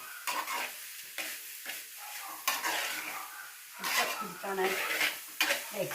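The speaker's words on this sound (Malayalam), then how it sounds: "എല്ലാം കൂടെ ഒന്നിച്ച് ചേരാനായിട്ട് ഇങ്ങനെ നമ്മൾ തവി കൊണ്ട് ഇങ്ങനെ എടുക്കണം" Jackfruit thoran stirred in a pan with a ladle, close scraping and clinking strokes in bursts over a soft sizzle, no talk.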